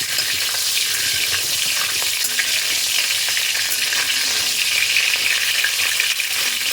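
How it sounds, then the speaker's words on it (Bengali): Steady, close sizzling of nigella seeds and green chillies frying in hot oil, a continuous crackling hiss with occasional small pops and stirring scrapes, no voices. "কালো জিরা আর কাঁচা লঙ্কাটা একটু ভাজা ভাজা করে নিয়ে নিলাম"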